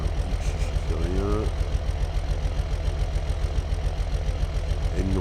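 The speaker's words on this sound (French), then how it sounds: "il est génial ce tracteur" A tractor engine idles steadily nearby with a loud, rhythmic low chugging throughout, while people talk over it at moments.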